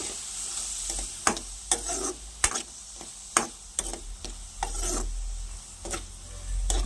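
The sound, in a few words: soya chunks (meal maker) heating and frying in oil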